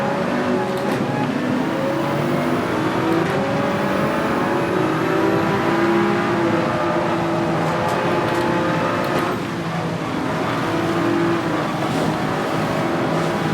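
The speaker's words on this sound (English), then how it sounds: "I'm gonna have to let the engine brake here so that I can at least make the turn" A race car engine in Gran Turismo 7 during a Manufacturers Cup race, droning steadily and fairly loud throughout as it engine-brakes into a turn, with a faint dip partway through.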